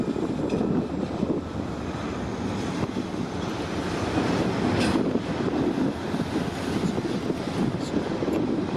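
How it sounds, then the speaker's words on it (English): Freight trains roll past a Canadian National rail yard on a Sunday evening, a steady loud rumble with faint wheel clatter and wind buffeting the microphone throughout, with no talk. "I think I'm gonna film the trains like this"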